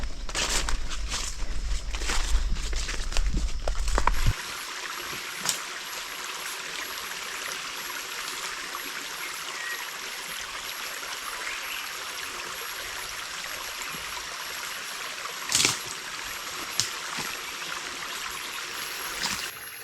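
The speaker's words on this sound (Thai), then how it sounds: "ลำธารโซนนี้นะครับ น้ำไหลเบามากนะ" A gentle forest stream flows with a constant soft rush of water, after a few seconds of rumbling handling noise, and one brief louder splash midway.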